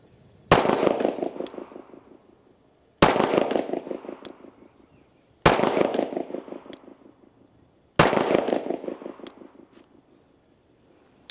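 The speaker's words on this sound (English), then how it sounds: "we're going to have you shoot a 4-round course of fire" Four handgun shots fired on a shooting range as a four-round course of fire, each a sharp, loud report with a reverberant tail, spaced evenly about two and a half seconds apart.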